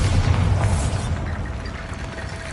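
A Bombarda blast spell cast in Hogwarts Legacy, a loud, heavy boom with a rumbling low end at the start that fades into a lingering roar, with no talking.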